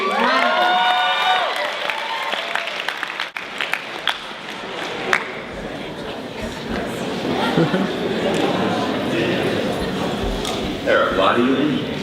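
A festival audience at a spoken-word poetry event bursts into loud applause and cheering for a poet, with whoops and shouts over dense clapping that carries on steadily, voices mixed in throughout.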